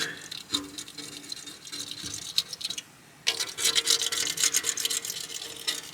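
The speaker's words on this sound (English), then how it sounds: "You can hear it when we scrape the window." Scraping tree sap and grime off a van window with a scraper: repeated rough, gritty scraping strokes, close and moderately loud, with a brief pause partway through before the scraping resumes more intensely.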